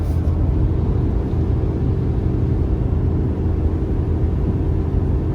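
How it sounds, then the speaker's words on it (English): A 2019 Ford F-450 engine with 4.30 gears drones at full throttle towing a heavy load uphill at 56 mph, a deep continuous rumble with no breaks, loud and close throughout. "it's pulling this hill 56 mile an hour, and that's everything the truck has"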